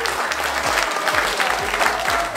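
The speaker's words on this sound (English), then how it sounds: "Big round of applause." A room of guests at a law firm's holiday party bursts into sustained applause, loud and dense, with a low rhythmic music beat underneath.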